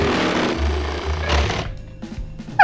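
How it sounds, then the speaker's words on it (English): A jigsaw buzzes loudly in short bursts as it cuts holes in plastic, stopping and restarting, with a sharp clatter at the end. "Get slow with the jigsaw."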